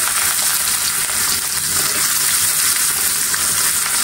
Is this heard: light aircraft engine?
no